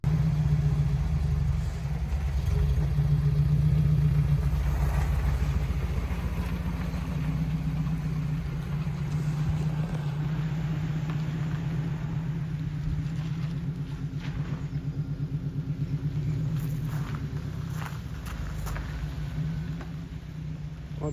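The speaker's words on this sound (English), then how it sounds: "here's the video of Neil driving off in the car." A Triumph TR7 sports car pulls away, its engine a low steady rumble that is loudest early on and then holds fairly even as the car drives off. No one speaks.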